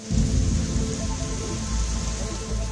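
Heavy rain pours down during a downpour that floods roads in Delhi, a steady, dense hiss of falling water filling the whole stretch at close range with no pauses.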